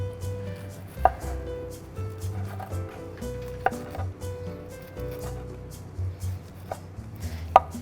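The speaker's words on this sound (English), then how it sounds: "I'm just going to trim off the leaves of this parsley just by keeping the bunch" A knife trims leaves off a bunch of parsley on a cutting board, giving sparse, soft cutting taps at irregular intervals over a low steady background hum.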